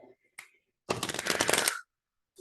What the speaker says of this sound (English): I'm going to pull out an advice card right now.